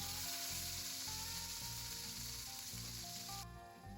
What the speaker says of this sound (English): Going to melt a bit of butter while keeping an eye on the burgers.